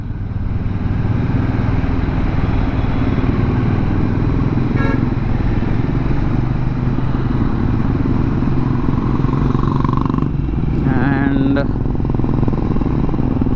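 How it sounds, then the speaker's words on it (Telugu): Hero Mavrick 440 motorcycle cruising in third gear at low speed, a steady close engine drone with wind noise throughout and a brief horn-like tone near the end. "నేను థర్డ్ గేర్లో 20 స్పీడ్లో ఉన్నాను, అస్సలు నాక్ చేయట్లేదు, ఈజీగా వెళ్ళిపోతుంది."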